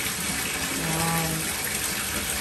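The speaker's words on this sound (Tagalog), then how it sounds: "Pupunin namin yung bathtub" Water gushing steadily from a tap into a bathtub as it fills, a constant close rushing wash with no voices over it.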